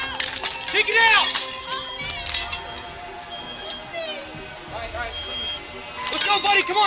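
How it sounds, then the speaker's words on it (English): Window glass being broken out during a fire rescue at a second-floor apartment, with bright crashing and tinkling shards in several bursts amid shouting voices and loud fireground noise. "Bust out the glass and let's go!"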